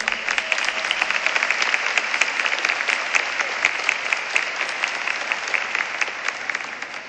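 A congregation applauds inside a cathedral during an episcopal ordination, a sustained dense wash of many hands clapping with a reverberant, even roar that fades slightly toward the end.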